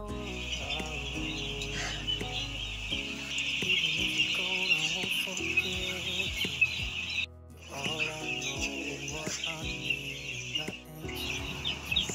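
A crowd of five-day-old broiler chickens peeps and chirps continuously in a steady high chorus, with occasional thumps and movement nearby.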